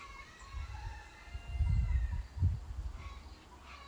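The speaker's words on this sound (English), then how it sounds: "Sorry about the chickens in the background." Chickens cluck faintly in the background of a garage or yard workspace, soft and distant behind low thumping and handling noises from nearby work.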